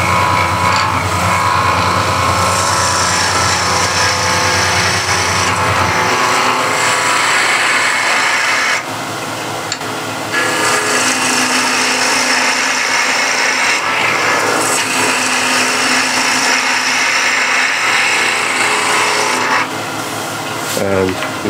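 A turning tool takes a planing cut along a wood workpiece on a lathe, a steady continuous scraping rasp with slight variations as the tool traverses, close and fairly loud with no talk.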